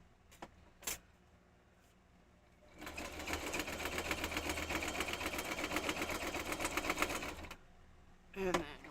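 A sewing machine stitches a scrapbook page, a rapid mechanical rattle that starts after a few quiet seconds and runs steadily for about five seconds, with soft clicks and a brief voice around it.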